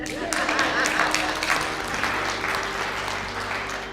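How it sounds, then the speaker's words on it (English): An audience at a motivational talk breaks into applause, a dense wash of clapping that stays fairly even throughout, with a faint low hum beneath. "You guys can clap for that."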